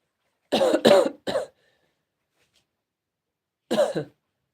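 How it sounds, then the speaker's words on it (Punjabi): A person coughs three times in quick succession, then after a silent pause gives a couple more coughs, close and clear. "ਖੰਘ ਜੀ ਲੱਗੀ ਪਈ ਥੋੜੀ ਜੀ ਆ ਠੰਡੇ ਤੱਤੇ ਜੀ ਨਾਲ"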